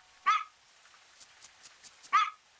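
A puppy gives two sharp, bright yips or barks about two seconds apart, with faint soft whimpers and small sounds in between, close and clear with no speech.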